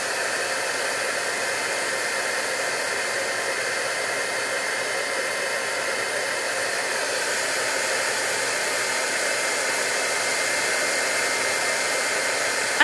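A heat gun embossing a card blows a steady, loud, even hiss like a hair dryer, unbroken for the whole stretch with no talk.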